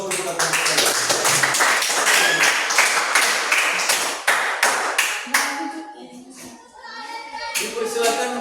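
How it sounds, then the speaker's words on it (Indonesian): Classroom audience applauding a group presentation, a burst of many hands clapping quickly and loudly for several seconds before thinning into scattered claps, with voices murmuring underneath. "Berikan aplaus untuk kita."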